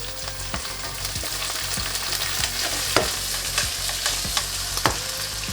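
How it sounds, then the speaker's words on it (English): Shrimp fries in hot oil with ginger and garlic for a lo mein stir fry, a constant loud sizzle broken by regular sharp clacks of a utensil stirring in the pan. "Now I'm gonna add the shrimp."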